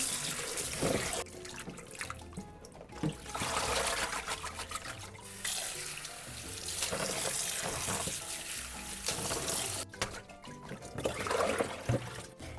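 Tap water runs into a kitchen sink as beef tripe for menudo is rinsed and drained, a steady splashing stream broken by short pauses and sloshing as the honeycomb tripe is rubbed, close and fairly quiet, with no talk.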